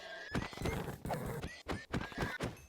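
A group of horses in the Minecraft video game neighing and whinnying repeatedly, mixed with hollow clip-clop hoof thuds in an irregular rhythm, close and clear with no talking.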